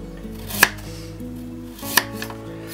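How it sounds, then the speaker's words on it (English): A knife chopping a carrot on a cutting board, two sharp, loud chops spaced over a second apart with a low steady hum underneath. "So we'll cut this up."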